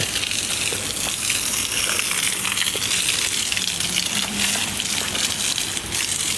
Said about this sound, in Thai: ขออนุญาตรดน้ำมันแป๊บหนึ่ง